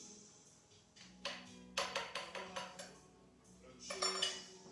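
A metal spoon clinks repeatedly against a glass jar of green tomatoes preserved in oil. The close, bright taps come in a quick uneven run, pause briefly, then return in a short final cluster.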